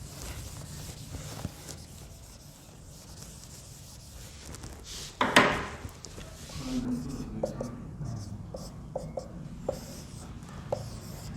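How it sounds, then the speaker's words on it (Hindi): Pen or chalk scratches on a board as quick handwriting: scattered light scrapes and taps, faint against a room hum. One louder rasping stroke comes midway, followed by a string of short ticks. "रुको मैं इसको फटाफट से सही से लिख देता हूं एक बार।"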